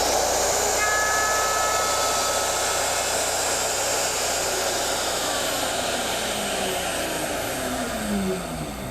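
Router running on a Porter Cable Omnijig 5116 dovetail machine, a loud steady high whine with a shifting pitch as it cuts dovetails in wood, continuous throughout and easing slightly near the end.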